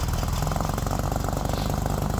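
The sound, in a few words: Jeep Wrangler engine running, sounding like a lawnmower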